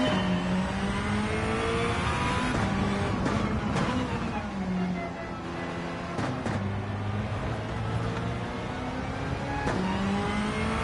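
A race car engine in Gran Turismo 7 drones and shifts pitch as it revs up and down through the gears, steady and prominent throughout.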